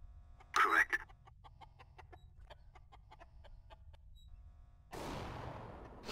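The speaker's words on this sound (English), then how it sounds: "Look at all those chickens." Chickens cluck in a short run of quick, evenly spaced clucks after one louder squawk, fairly close, followed by a burst of noisy rustling toward the end.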